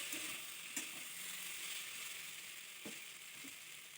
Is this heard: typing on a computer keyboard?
no